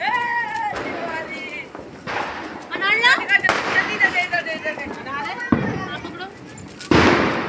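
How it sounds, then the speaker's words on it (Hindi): Diwali fireworks and firecrackers pop and crackle in irregular bursts, some sharp and near, others fainter, with whistling streaks and voices in between. "पटाखों की आवाज़ से नींद नहीं आती"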